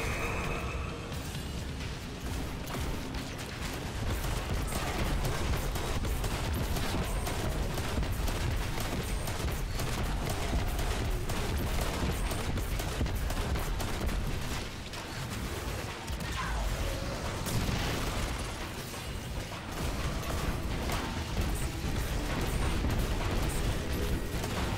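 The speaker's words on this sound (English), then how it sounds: "and then we're just unloading the mag" An Edge Transit weapon in a video game empties a full magazine in one long, dense burst of rapid shots and heavy mechanical blasts, loud and unbroken for nearly the whole stretch.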